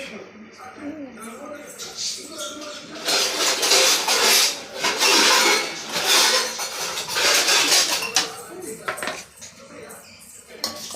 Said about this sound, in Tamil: இப்போ வாங்க கலக்கிக்கலாம் நல்லா கடக் கடக் கடக் கடக்கு கலக்கிக்கலாம்